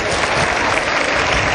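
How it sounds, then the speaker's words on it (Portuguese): A church congregation applauds at a service, steady, loud and close, a dense wash of many hands clapping at once with no pauses. "Palmas para os dois."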